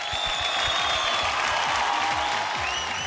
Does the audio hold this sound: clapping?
yes